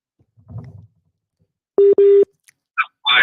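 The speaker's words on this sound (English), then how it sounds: "oh, it's too busy, I'll try again." Telephone busy signal heard when calling in to a live show, two loud, evenly spaced electronic beeps, preceded by a faint murmur and followed by brief clicks and line noise.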